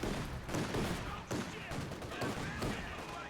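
Machine gun fire in the Company of Heroes 2 strategy game, an MG position opening up in a 1v1 match, as dense, continuous rapid bursts with sharp repeated cracks throughout.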